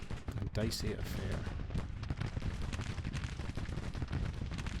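Battle in the Grand Tactician strategy video game, with dense volleys of musket gunfire and booming artillery, repeated sharp cracks and thumps over a rumbling backdrop, while someone talks over it.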